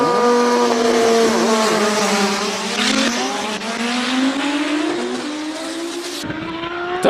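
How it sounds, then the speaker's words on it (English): A loud race car climbs through the gears at a Cape Town hillclimb, its engine note rising and dropping with each smooth shift, sustained and close before cutting off sharply near the end. "Don't you love how smooth those gear changes are taking place?"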